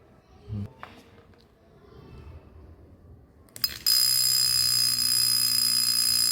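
At a school science fair, after a few quiet knocks and shuffles, an electromagnetic electric bell bursts into continuous loud, shrill ringing that holds steady to the end.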